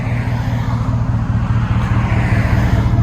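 A 2018 Ram 1500 with a 5.7L Hemi V8 and Flowmaster 40 Series exhaust idles steadily, a loud, deep, rumbling burble that holds an even throb throughout with no talk over it.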